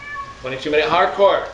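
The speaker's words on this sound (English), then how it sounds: "I don't know if you guys can hear my cats meowing in the background." Cats meow a few times in quick succession while a person talks over them in the foreground.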